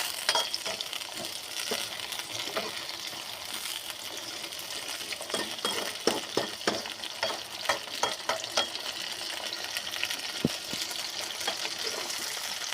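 Eggplant stir-fried in plenty of oil, a steady sizzle with repeated clinks and scrapes of a spoon against the pan, close by and with no talking.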